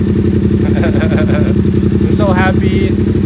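A Yamaha XSR700 motorcycle with a new exhaust idling nearby, a loud, deep, rhythmic bass thrum throughout while a person talks excitedly over it.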